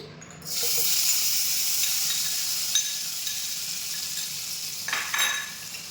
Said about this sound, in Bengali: লো ফ্লেমে মাছটা আমরা এদিকে ভেজে নেবো